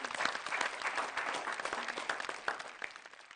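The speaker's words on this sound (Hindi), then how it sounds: "जोरदार तालियों से स्वागत करते हैं" An audience gives a poet a warm welcome on stage at a televised poetry show, with a dense, lively burst of clapping that stays full and even throughout.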